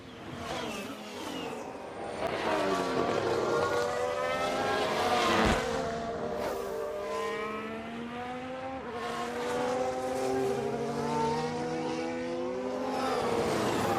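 Formula 1 race car engine in the F1 Manager 22 game, accelerating flat out around the final corner, a continuous loud high-revving whine with rising pitch sweeps, with commentary voice faintly underneath.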